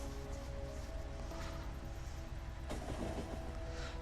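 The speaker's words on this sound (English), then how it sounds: "first train's going over there" A train in the Factorio video game rumbles steadily along its tracks, a continuous low mechanical drone with a brief rattling shift partway through, heard alone at moderate volume.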